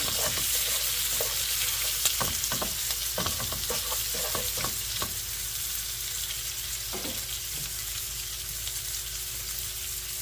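Egg with shrimp and mixed vegetables sizzles steadily in a hot pan while a utensil stirs and scrapes in quick clattering taps, close and loud with no talking.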